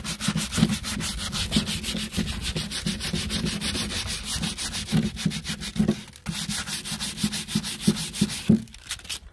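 Steady back-and-forth rubbing of folded, rolled sandpaper working into the crevices of a piece of driftwood, close and continuous with brief pauses, no talking.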